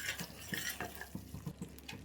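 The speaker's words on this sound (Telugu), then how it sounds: "ఇప్పుడు ఇది బాగా కలిపేసుకొని దీంట్లోకి గ్రేవీకి సరిపడా వాటర్ యాడ్ చేసుకోండి" A spoon stirs and scrapes through thick kadai paneer masala in a pan, giving soft repeated clinks and scrapes at an uneven rhythm, close and fairly quiet.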